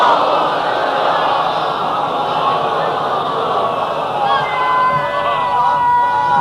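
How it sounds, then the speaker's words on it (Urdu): At a religious gathering, a large crowd loudly recites salawat in unison, a dense, sustained roar of many voices chanting together that carries steadily from start to end. "بلند ترین صلوات بھیجیں معصومین کے اندر۔"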